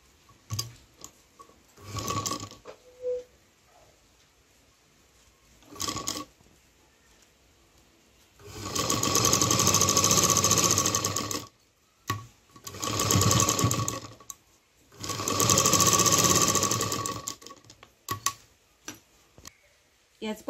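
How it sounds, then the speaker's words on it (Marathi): A sewing machine stitches around four sides of a fabric dhol bag in several bursts: short runs at first, then three long loud whirring runs separated by brief pauses. "तर हे आता आपण चारी साईडने शिलाई करून घेऊयात."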